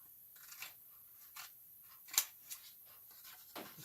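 Scissors snip paper flower petals for a wedding backdrop, a few soft, close, separate cuts in a quiet room.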